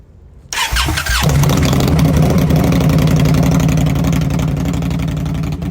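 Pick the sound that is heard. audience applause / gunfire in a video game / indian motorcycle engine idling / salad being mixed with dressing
indian motorcycle engine idling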